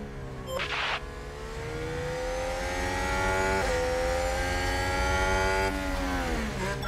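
F1 race cars overtaking at Barcelona in the F1 Manager 2022 video game: high, whining engines rev and shift pitch as the cars pass close by, sustained and fairly loud with sharp gear-change dips.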